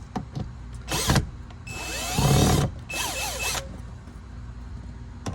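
Screws are backed out of a window frame with a power driver during a zippered window cover install, giving several short whirring bursts with gaps between them, fairly close and alone.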